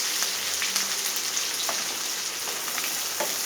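Onions, green chilies and curry leaves fry in a hot pan, giving a steady, close crackling sizzle with scattered pops throughout and no talking.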